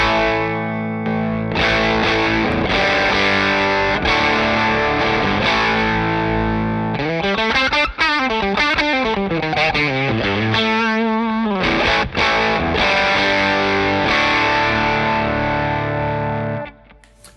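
Electric guitar driven through a VS Audio Fuzzy Tale fuzz pedal, loud and saturated, with strummed distorted chords and a sweeping, warbling bent passage midway, sustained without any talking.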